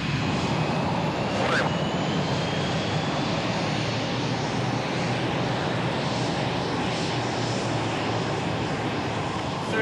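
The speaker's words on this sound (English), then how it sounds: "When he starts to take off, I'll point it out to you and you'll see how rapidly the speed increases." An airplane on a runway takes off with a loud, steady engine roar that fills the whole stretch without a break and stays close and strong throughout.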